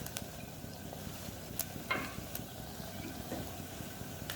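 Ginger and garlic cloves sauté in a pan for a mutton pulao, a soft, low sizzle with a few faint clicks and stirring scrapes, steady and unvoiced throughout.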